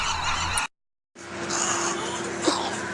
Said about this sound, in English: snowy egrets start to speak language that resembles foreign human language that birds watchers never heard before